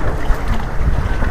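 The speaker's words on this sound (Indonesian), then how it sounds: "Mudah-mudahan anginnya nggak lama" Steady wind roars across an open fishing platform on a swampy marsh, a loud, continuous gusting rumble with buffeting on the microphone and no voices.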